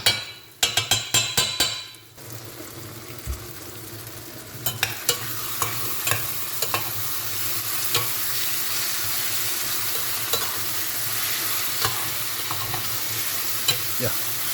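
Cabbage, meat and canned tomato stirred together in a hot pan, a steady sizzle under a run of sharp utensil clinks and scrapes, dense at first and then spaced out.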